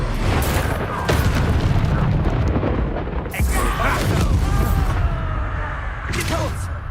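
In Hogwarts Legacy, the Expulso spell detonates in loud, deep booms over continuous rumbling combat noise, with a few sharp bursts rising out of the din.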